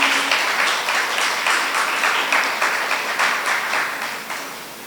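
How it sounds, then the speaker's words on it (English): Audience applause for performing artists at a university gender policy launch, a steady wash of many hands clapping throughout, fairly close and moderately loud, with a brief voice at the very start. "if we can give our artists one more round of applause"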